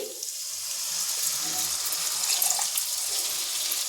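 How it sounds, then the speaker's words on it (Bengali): Squeezed coconut milk poured over fish in a pan makes a steady, soft liquid pour with a light hiss, running continuously for a few seconds. "সেই নারকেলের দুধটা এবার এর ওপরে দিয়ে দিচ্ছি"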